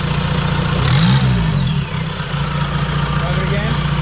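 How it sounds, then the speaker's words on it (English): VW TDI diesel engine with upgraded injector nozzles idling and briefly revving up, then settling back, a steady close rumble with someone talking over it. "But go ahead and rev it."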